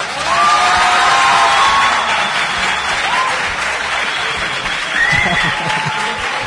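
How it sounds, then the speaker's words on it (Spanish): Loud, dense applause from a big crowd at a live vallenato concert in Santa Marta, with a few whoops and voices rising over the steady clapping throughout. "De verdad, fuerte el aplauso."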